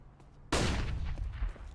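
Unsilenced pistol fired in a Counter-Strike match, a single sharp, loud report that bursts in abruptly after near-quiet and trails into a rumbling decay.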